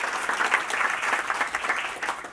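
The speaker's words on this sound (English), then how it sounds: "Could we give them a round of applause for all the hard work that they've done?" A conference audience breaks into a steady round of applause, many hands clapping together at moderate loudness for a couple of seconds without pause.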